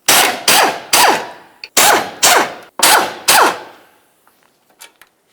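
An impact wrench loosens the bolts holding the engine mount to the body of a 2007-12 Nissan Sentra: seven loud, close bursts in quick succession, each a few tenths of a second long, then a few faint clinks.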